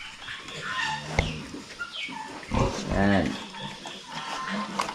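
Pigs grunt and squeal on a rural Philippine farm, a few rough calls rising over steady background noise while someone talks through the clip.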